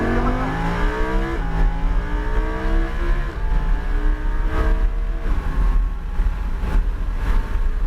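Lamborghini Huracan accelerating hard down a straight on a track, engine loud and close with rising revs, gear changes breaking the climb several times, and steady roar with no talk.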